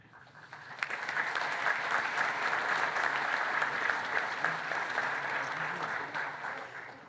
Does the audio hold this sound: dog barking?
no